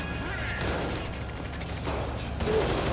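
Gunfire in the video game Payday 3, a loud continuous burst of rapid shots and clattering mechanisms filling the whole stretch without pause.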